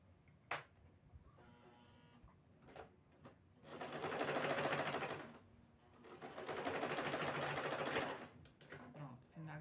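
A sewing machine stitches the cover for a sousplat, running in two sustained bursts of rapid mechanical stitching with a brief pause between, preceded by a few clicks and handling sounds, fairly close.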